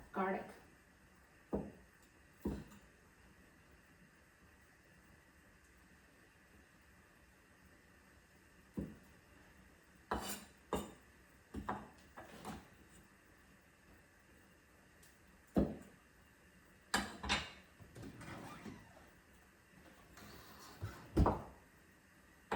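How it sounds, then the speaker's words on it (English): Garlic being chopped with a knife on a cutting board at home, sharp scattered knocks coming singly and in short clusters with quiet gaps between them, close and fairly soft. "now I'm going to go ahead chop the garlic"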